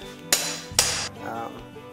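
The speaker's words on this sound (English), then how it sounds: "get yourself a heavy-duty cleaver and a regular workman's hammer" Two sharp metallic strikes of a regular workman's hammer on a heavy-duty cleaver chopping through lamb ribs, each a bright clang followed by a brief ring, close and clear.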